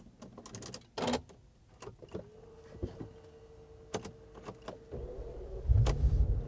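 A 2006 Bentley Flying Spur is started: clicks and a steady whine from the starter, then the engine catches with a low, close rumble in the final second.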